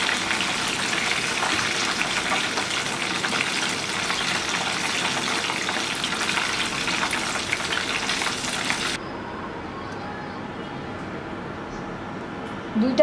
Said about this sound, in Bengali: একটু সময় নিয়ে এটাকে আমি গোল্ডেন কালার করে ভেজে নিব, যেহেতু চিকেনটা কাঁচা, একটু সময় নিয়ে ভাজতে হবে